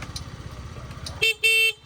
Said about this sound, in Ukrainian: І бібіка працює, все добре.